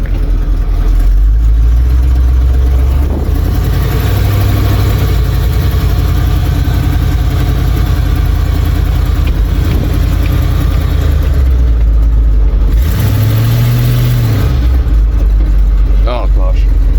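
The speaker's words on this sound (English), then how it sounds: "This thing runs so good. You got that high idle comes down." A 1977 Ford F-250 with a swapped-in big block engine idles loudly and close, with a high idle settling down and a brief rev near the end, the headers leaking slightly.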